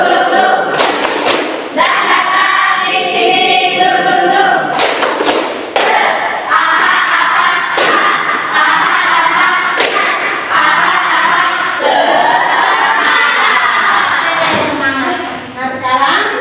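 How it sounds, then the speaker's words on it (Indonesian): A classroom group does a rhythmic spirit clap, sharp bursts of hand claps and thumps in a repeating pattern mixed with voices chanting along, loud and close in the room. "Ayo, tepuk semangat."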